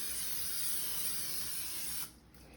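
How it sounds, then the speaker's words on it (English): Pam cooking spray hisses onto a silicone muffin pan in one continuous close spray lasting about two seconds, then cuts off into near quiet. "I'm going to take Pam and I'm just going to spray my pan so that it doesn't stick"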